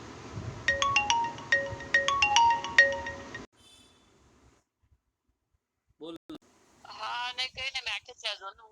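A phone ringtone plays a bright repeating electronic melody for a few seconds, then stops; after a pause, people begin talking.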